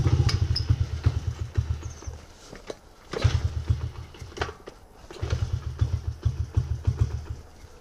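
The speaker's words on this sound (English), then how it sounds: "Go ahead and just kickstart it." A Honda XR50R/CRF50F small motorcycle engine running just after a kickstart, its quick low putter rising and dipping in uneven bursts, close by, with a few clicks and knocks around it.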